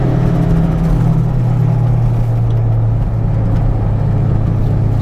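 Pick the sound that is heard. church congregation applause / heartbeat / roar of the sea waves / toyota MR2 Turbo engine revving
toyota MR2 Turbo engine revving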